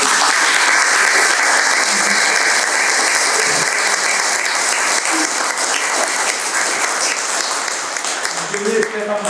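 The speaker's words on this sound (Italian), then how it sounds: "Io vorrei far fare un applauso alla segretaria." Crowd applauding a secretary during a mayor's farewell press conference in Italy: loud, sustained clapping from a full room that keeps an even roar for most of its length and thins slightly toward the end.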